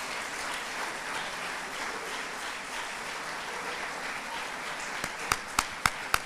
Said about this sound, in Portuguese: Você pode dar um aplauso à igreja do Senhor?